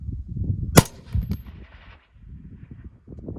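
A single sharp rifle shot from a Cobalt Kinetics 6ARC cracks loudly near the start, fired at a target 1228 yards away, over faint low background rumble and wind.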